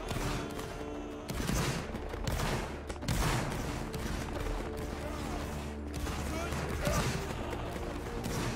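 Ragged musket volleys crackle through a Napoleonic-era video game battle between Austria, Russia, Bourbon Spain and France, with repeated dense bursts of gunfire over a steady din while a voice calls out orders.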